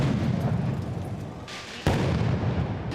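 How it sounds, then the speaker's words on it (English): Powerful firecrackers and mortar-style fireworks thrown at police in a Los Angeles street protest over ICE raids give a sharp loud blast near the end, over constant crowd noise and low rumble. "a few people in the crowd threw powerful firecrackers and mortar-style fireworks directly at local police in the street"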